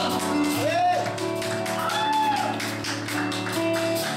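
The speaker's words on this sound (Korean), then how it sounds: "함께 박수 치며 찬양하며 나아갔으면 좋겠습니다." A Korean church congregation at a youth worship service claps in a steady rhythm while singing praise, with voices and sustained music over the repeated claps.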